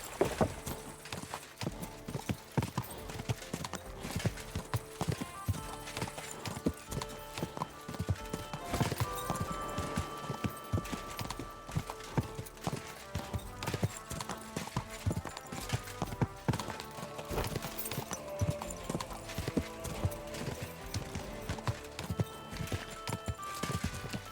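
Horse hooves clip-clop in a fast, steady rhythm throughout, with a few neighs over layered game music and effects, from the video game Kingdom Come: Deliverance II.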